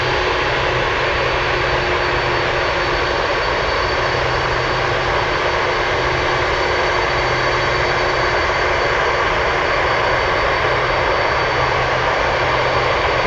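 An MD-11 cargo jet taking off at Anchorage airport, a loud, steady roar of jet engines that holds broadband and constant throughout, with no voices over it.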